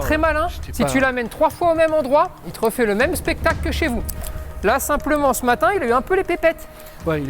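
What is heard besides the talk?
No everyday noise stands out behind the speech.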